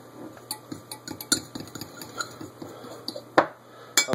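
Dry ingredients with baking powder for almond buns are stirred in a bowl, making a run of light clinking and scraping taps close by, steady and rhythmic, with no talking.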